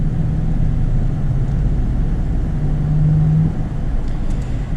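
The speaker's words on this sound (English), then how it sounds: "I try to get an acceleration with the LX 570" A 2019 Lexus LX 570 three-row SUV with an eight-speed automatic accelerates, its engine a steady low rumble that swells slightly partway through, heard from inside with no talking.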